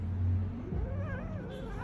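A house cat gives a brief, low drawn-out moaning yowl, close by and fairly loud, lasting under two seconds with a muffled rumble behind it.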